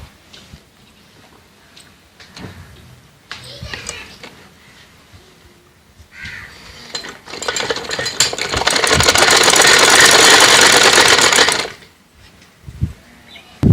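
A sewing machine stitches cloth for a child's village-style shorts. Quiet handling noises come first, then a loud, steady, rapid run of stitching lasts about four seconds before stopping.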